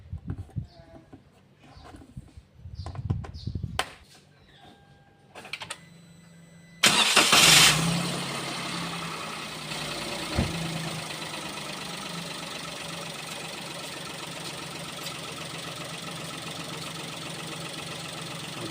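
Perodua Axia engine cranks briefly and catches after some quiet handling noises, then settles into a steady, even idle that continues, with a small knock partway through.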